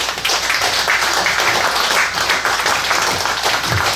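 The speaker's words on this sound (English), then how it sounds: "Let's give him a round of applause." Lecture audience welcoming archaeologist speaker John Foster with loud, sustained applause, a dense, even roar of many hands clapping close by for the full few seconds.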